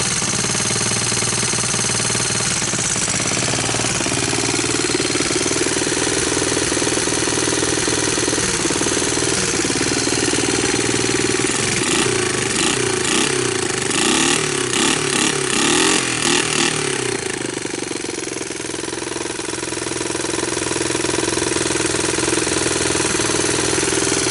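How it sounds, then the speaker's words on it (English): A Honda TRX200SX ATV engine idles steadily with a rapid mechanical ticking from the valves, loud and close, revving slightly midway. "Got some valve noise."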